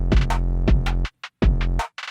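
A drum sample loop plays a programmed beat with hi-hat, snare and two auxiliary snares over a heavy low kick and bass. Crisp hats and snappy snare hits repeat in a steady groove, loud and close.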